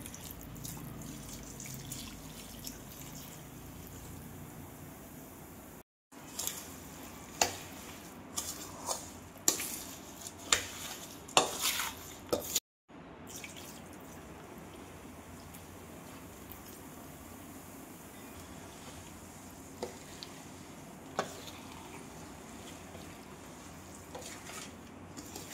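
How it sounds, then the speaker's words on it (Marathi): Oil is poured into a turmeric-spiced raw mango pickle mixture and stirred, giving soft wet trickles, drips and scattered clinks of a spoon against the vessel, close and quiet, with a couple of brief silent gaps. "आता उरलेलं सगळं तेल टाकून देऊ।"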